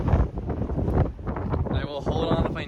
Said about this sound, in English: First big gust of the day.